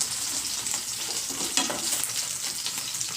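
Chicken frying in a pan and being stirred gently, a steady close sizzle with soft scraping through the whole stretch, for a honey mango chicken starter.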